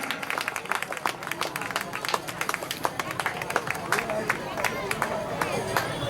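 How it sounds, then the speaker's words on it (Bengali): An audience claps at an award ceremony during a science fair, giving dense, steady applause from many hands with crowd chatter and voices running through it. "একটু জোরে হাততালি দেবে, তাহলে তোমরাও পাবে।"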